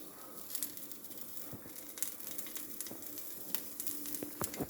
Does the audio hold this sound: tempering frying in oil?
yes